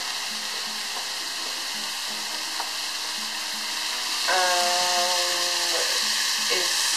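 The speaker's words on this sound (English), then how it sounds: "So my meat is nicely brown now, and I'm going to add the onions" Onions go into a pot of browned lamb for a curry, giving a steady, fairly loud frying hiss with faint clinks, joined midway by a brief higher-pitched tonal whine over the sizzle.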